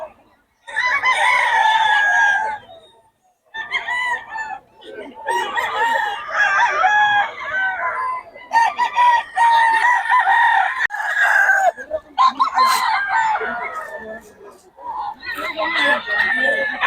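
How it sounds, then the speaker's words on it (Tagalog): Several gamecocks crow one after another, loud and close, with a few clucks and some background voices between calls. "Mga solid mga manok nito, Boss Jun."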